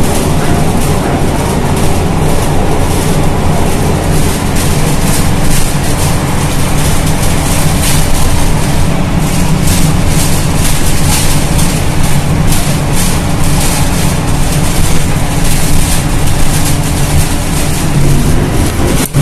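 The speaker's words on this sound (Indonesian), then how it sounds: "Di bawah ada MRT yang lagi lewat." An MRT train passes below on Jalan Sisingamangaraja, a loud, steady rumble of rail and engine noise under dense city traffic and wind, continuous for the whole stretch with no clear start or stop.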